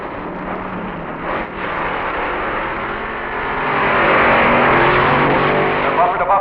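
Two drag cars, a B-gas Chevy-powered gasser and a Corvette, roar down the strip in the Street Eliminator final, a sustained loud engine howl that swells as they run bumper to bumper, with an announcer talking over it.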